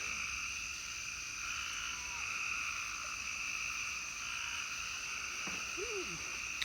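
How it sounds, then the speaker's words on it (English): A dense chorus of frogs croaks and trills steadily in the night, a constant layered drone with a few nearer chirps toward the end. "Frogs are making a lot of noise."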